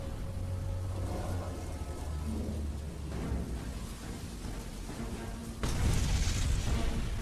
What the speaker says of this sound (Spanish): Menos de un minuto después, la explosión ilumina la noche provocando enormes llamaradas.